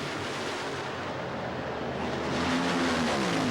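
NHRA Funny Car drag race launch from 1990 finals, two nitro cars leaving side by side with a thunderous, sustained roar that swells louder toward the end, heard from trackside with no voices.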